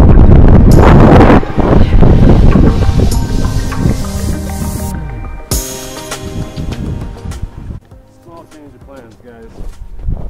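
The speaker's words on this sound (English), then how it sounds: "Too windy there." Wind buffets the microphone at a lakeside spot on early first ice in central Alberta during a trout ice-fishing outing, a loud broadband roar that surges and eases while a person talks over it.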